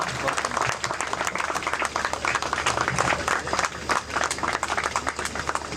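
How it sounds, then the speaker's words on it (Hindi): A crowd at a birthday party gives dense, sustained applause as a speaker walks up to the dais. The clapping is loud and steady throughout, with no talk over it. "तालियां बजती रहेंगी"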